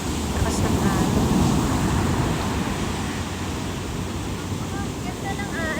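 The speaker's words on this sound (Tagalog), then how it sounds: "Ang lakas ng alon." Strong sea waves wash onto a shore at dawn, a loud continuous roar of surf with steady wind noise buffeting the microphone throughout.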